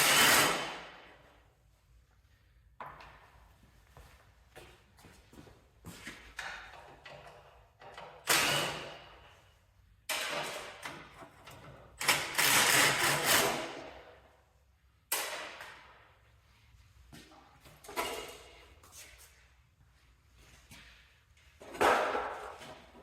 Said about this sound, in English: I use 7/16 socket for this.